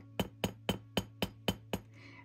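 Seven light, evenly paced hammer taps ring out on a metal rivet holding a cicada necklace together, each a crisp close metallic tick, followed by a faint soft rustle.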